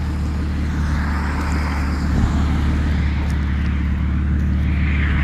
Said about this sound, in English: Yeah, this car's coming